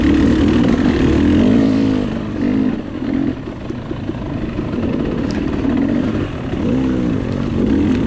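A KTM 300 two-stroke dirt bike runs through a wooded hare scramble race, its engine droning loud and close and rising and falling as the rider downshifts and accelerates on a hill, with no talk.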